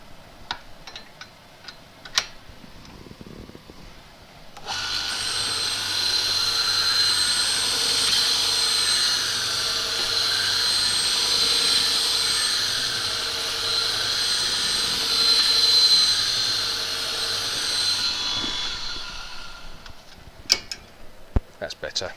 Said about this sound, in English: So I'll just sharpen the spindle gouge.